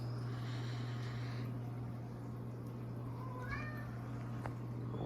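A cat lets out a few short meows over a low, steady indoor hum, fairly faint and close, with no talking during the calls.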